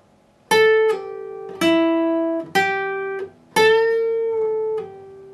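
Electric guitar playing part 5 of a solo, a phrase of about four picked notes with quick pull-offs between them, each note ringing clearly and sustaining, alone without voices.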